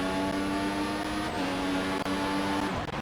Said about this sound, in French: Et les moteurs Cosworth, hein, qui tournent bien encore aujourd'hui.